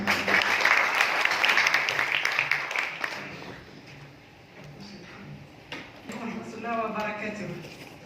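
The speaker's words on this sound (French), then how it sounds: "Sous vos applaudissements." At the opening session of a maritime fisheries ministry event, an audience claps for an opening speaker, a dense burst of applause that fades out over several seconds before a voice begins talking.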